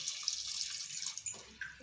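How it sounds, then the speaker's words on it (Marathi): Water pours in a steady hissing stream into a pressure cooker holding a pot of drumsticks, close and fairly soft, with a few splashy shifts near the end. "बुडतील एवढं पाणी घालूया फार पण घालायचं नाही"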